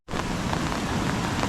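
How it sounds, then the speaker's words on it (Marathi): Heavy monsoon rain pours down in a Konkan village by the flooded Kajali river, a dense, loud, unbroken hiss that starts abruptly and holds steady. "म्हणजे अर्धा तास झाला पाऊस पडून"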